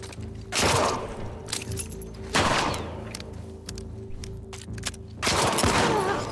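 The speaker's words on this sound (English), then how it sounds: "Stop shooting me, please." Bursts of gunfire in The Last of Us Part II, three loud volleys of rapid shots spaced a couple of seconds apart over an ambient background hum, close and sharp.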